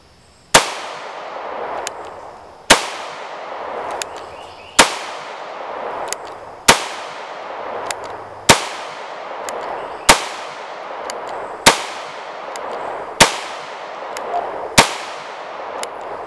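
An HK P30SK subcompact pistol fires about nine loud, sharp shots at an even, unhurried pace, each report ringing off into a short decaying tail.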